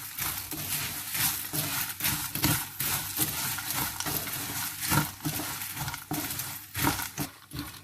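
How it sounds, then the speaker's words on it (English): Fried cornflakes, peanuts, nuts and raisins tossed together in a pan, giving a steady stream of dry crunchy rustling and light clinking, fairly close and continuous with no talking. "And I'm going to nicely mix this up."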